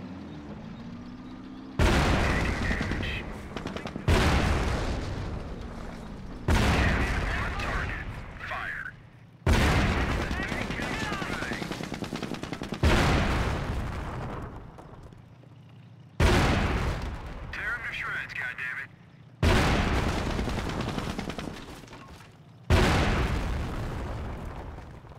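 Heavy gunfire and machine gun bursts in the World War II strategy game Company of Heroes, a Normandy invasion battle, with roaring sustained volleys and booming explosions in long repeated waves, loud and dense.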